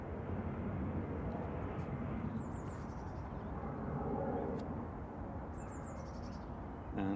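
Lufthansa City Airbus A319 jetliner departing Manchester Airport for Munich, a steady broad engine roar at moderate distance that holds throughout, with faint bird calls over the top.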